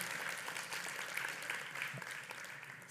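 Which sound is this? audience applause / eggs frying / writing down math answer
audience applause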